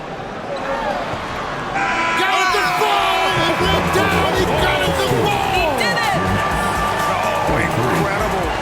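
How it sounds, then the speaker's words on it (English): Crowd in the NBA 2K24 basketball video game, Bulls versus Nets, roars and cheers loudly and continuously alongside squeaking sneakers and ball bounces, with a commentator talking over the noise. "This crowd is going wild."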